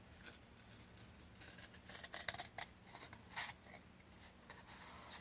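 Scissors snip through paper while cutting out a paper phone, producing faint, close crisp cuts in short bursts against a quiet background.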